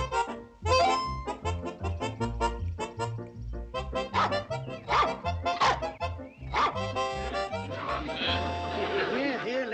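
A small dog yips and barks repeatedly, close, in an old television sitcom scene, mixed with people talking and some background music.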